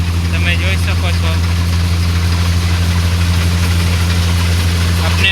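A Swraj 744 FE tractor running near 1100 rpm drives a Shri Balaji thresher threshing peas, a steady loud low engine drone with a constant mechanical hum throughout, with faint voices in the background.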